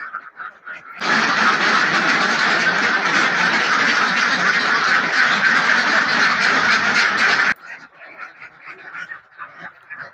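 A loud, dense chorus of many egg-laying ducks quacking continuously in their pen, close by, then dropping away to scattered fainter quacks near the end.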